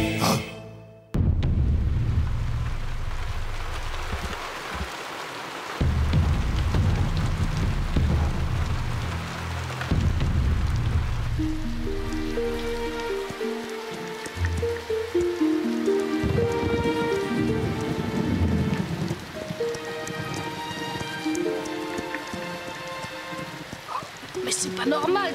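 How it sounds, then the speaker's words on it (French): Heavy rain pours steadily in a French animated children's series, with rumbles of thunder near the start; a melodic music score rises over the downpour in the second half. "Est-ce que cette pluie va enfin s'arrêter? Elle tombe depuis des jours et des jours."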